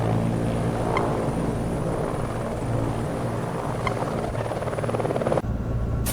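A helicopter-like aircraft in the Chicane video game sets down for a landing: a steady, loud rotor and engine drone holds throughout, then cuts off abruptly near the end.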